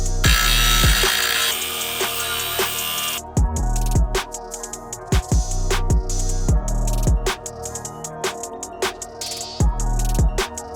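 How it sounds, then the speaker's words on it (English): Grinder cutting metal out of a drift car's subframe to make room for a new steering rack, one long continuous screech at the start and then a series of short bursts and sharp clunks, close up, with no talking. "In order for the new rack to fit, I have to cut out all of this metal in my subframe"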